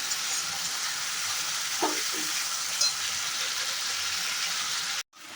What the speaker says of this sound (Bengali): ভাজা ভাজা হবে, মানে মশলাটা থেকে যে কাঁচা গন্ধটা না বেরোয় ততক্ষণ পর্যন্ত কিন্তু আমাকে এটা করতে হবে